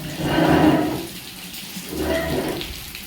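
Rain falls over a farm field in Gujarat, a broad watery rush that swells twice and eases in between, loud and close.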